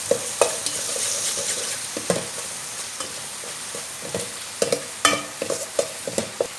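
Palak paneer mixture with garam masala and turmeric is stirred in a hot pan, a spoon scraping and knocking in irregular bursts over a low, steady sizzle, close and fairly loud with no talking.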